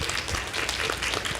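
An audience at an elderly health service forum in Thailand gives a speaker a dense, continuous round of applause, many hands blending into a steady wash in a conference room.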